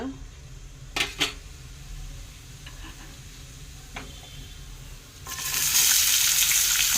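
Cumin and mustard seeds fry in hot oil for a potato and chana dal dish. A couple of sharp pops come early, then a loud, steady sizzle swells up near the end.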